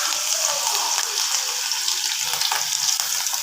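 Banana flower 65 fries in a kadai of hot oil, giving a steady, close, bubbling sizzle that holds at an even level throughout with no talking.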